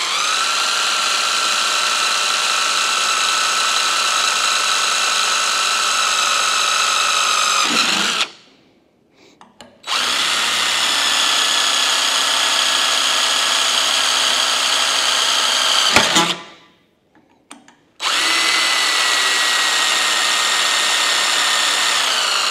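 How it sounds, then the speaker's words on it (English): A power drill bores holes through a metal lid on a ranch, a loud steady high whine in two long bursts, each stopping abruptly with a short quiet gap before the next, then starting again, with no talk. "4 holes drilled."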